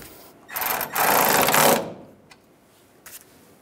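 A bolt on a ground strap of a 1999-2006 Chevrolet Silverado 1500 is tightened down with a power tool, two close whirring bursts lasting about a second each, followed by faint clicks.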